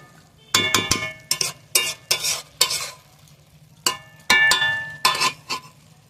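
A spatula stirs sugar into katla fish head muri ghonto in a pan. Repeated scraping and clattering strokes come in irregular bursts over a faint background sizzle.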